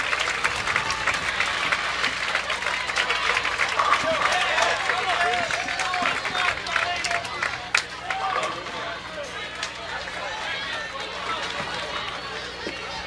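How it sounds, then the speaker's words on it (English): A crowd in a bowling center at a college team match breaks into loud, sustained applause and cheering after a 299 Baker game, with voices and chatter mixed into the clapping before it slowly tapers. "the entire bowling center erupts into applause"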